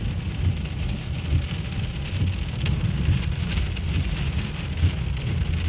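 Heavy thunderstorm rain pours steadily and loudly over a drive home, a dense unbroken roar with low rumbling thunder underneath and a few brief sharper spatters, no voices.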